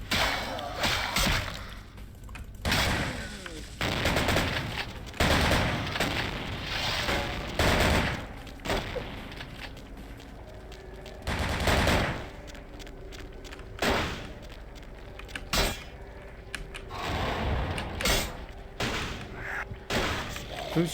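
Repeated gunshots in a Vampire The Masquerade: Bloodlines gameplay battle, sharp loud cracks arriving in irregular bursts with pauses between volleys.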